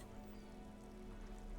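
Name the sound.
rain in the video game Disco Elysium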